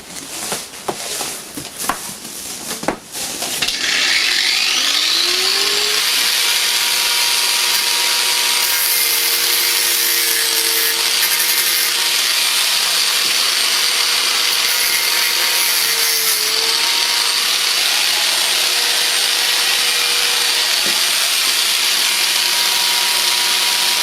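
An angle grinder cuts through e-waste along a marked line, a loud sustained whine after a few seconds of clattering setup, with pitch dipping and recovering as the disc bites, continuing steadily to the end.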